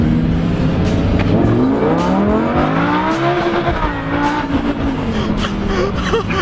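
A Lamborghini Huracan accelerates hard, its engine note climbing and sweeping through the revs with a loud, close roar, briefly easing before pulling again, while passengers exclaim over it.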